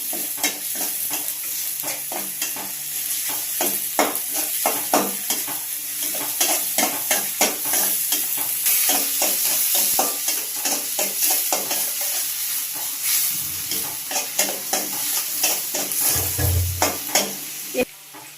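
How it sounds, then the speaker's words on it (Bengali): Sliced onions fry in oil with black cumin seeds, giving a busy sizzle broken by repeated scraping strokes of a spatula stirring the pan, close and fairly loud with no talk. "পেঁয়াজটা একটু ভাজা করে নেব, লালচে লালচে একটু হালকা"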